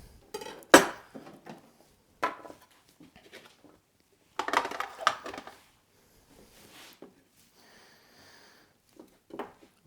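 Knife slicing bell peppers into sticks on a board, a few sharp irregular chops and clicks with quiet pauses between, close and fairly faint.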